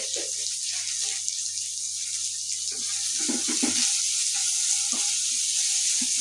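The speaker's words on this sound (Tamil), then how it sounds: "வெங்காயம் நல்லா வதங்கட்டும் ஃப்ரெண்ட்ஸ்." Salted onions fry in a pan for potato kurma with a continuous close sizzle. Occasional soft clinks and scrapes of stirring sound over the steady frying.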